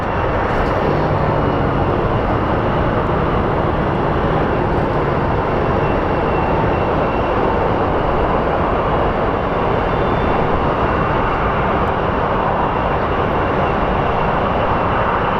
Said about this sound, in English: here comes our Burbank 737